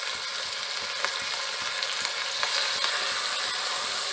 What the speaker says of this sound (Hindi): मैंने कीमे को सौटे कर लिया है जिंजर गार्लिक पेस्ट में